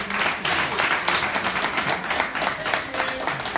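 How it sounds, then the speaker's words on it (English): Audience applause honoring Chief Bimbo Robert Falaya at a community gathering, a dense continuous wash of clapping with no pauses across the whole stretch. "Please, a round of applause"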